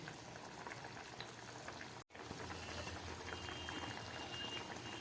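Vegetarian pakora curry simmers in a pot on a gas stove, a steady close bubbling and hiss that breaks off for a moment, then carries on with no talk.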